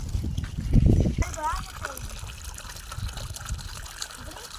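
Water gushes from a garden hose onto heat-parched plants, starting in a strong splashing burst and then settling into a lighter, steady trickle, while someone talks over it.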